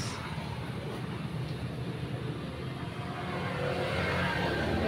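An engine removed from its chassis and wired to run off a battery idles with a steady, dense mechanical roar that swells slightly louder toward the end.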